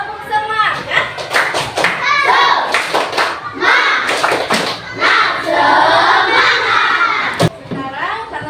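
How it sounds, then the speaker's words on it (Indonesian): A school class does a rhythmic spirit clap in a classroom, loud patterned clapping mixed with children chanting and shouting together, with a sharp single clap near the end. "tepuk semangat"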